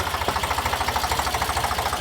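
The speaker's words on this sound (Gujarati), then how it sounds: "હે હા ટ્રેક્ટર ડમ્ફર જેવી છે" A tractor with a dumper trolley idles steadily close by, its engine thumping in a fast, even rhythm. No voices come through over the engine.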